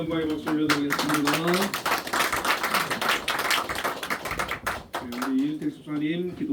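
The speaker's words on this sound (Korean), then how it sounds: "우리 하나님께 영광의 박수 올려드리겠습니다." A church congregation at a Sunday morning Christmas-season service claps in a burst of crisp, irregular hand claps, mixed with a speaking voice that comes and goes over the clapping.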